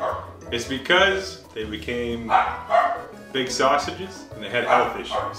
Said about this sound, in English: Tonight on the show, you'll likely hear my dogs bark.